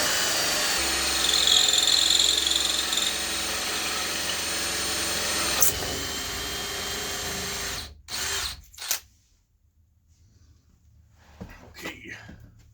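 A power drill bores a hole through wood during a plumbing install in a converted school bus, whirring loudly for several seconds before stopping, followed by a few short bursts and quieter handling noise.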